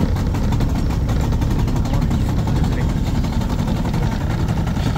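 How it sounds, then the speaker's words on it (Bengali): A speedboat engine runs at the Janata Bazar jetty in Monpura, a loud, dense low rumble that stays steady and close throughout with no breaks. "এই হচ্ছে স্পিড বোট, এটাতে যাব।"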